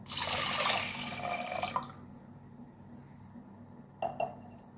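Water poured into a pressure cooker holding rinsed horse gram, a splashing pour for about two seconds that trails off into quiet, followed by a couple of brief metallic clinks of the pot.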